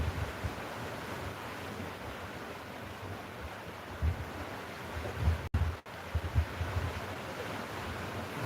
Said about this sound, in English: just like the waves are coming in and going out.